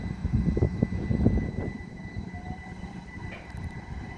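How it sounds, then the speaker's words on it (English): A Class 379 electric train bound for King's Lynn passes at Cambridge South station, its steady rumble loudest at first and then easing to a quieter hum, with no talk over it. "Look at that train over there. It's a 379 going to King's Lynn."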